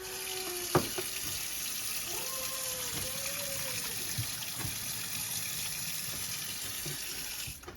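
Water drained from a pot of cooked squash pours and splashes steadily into a sink for several seconds, a continuous rushing gush with a few clanks of metal near the start.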